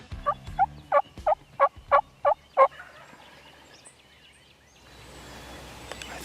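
A wild turkey gobbles in a rapid series of about eight loud, rattling notes from a hilltop in open hardwoods, then fades into quiet outdoor ambience.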